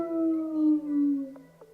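A puppy howls close by in one long, sliding tone that slowly falls in pitch, ending with two short yips.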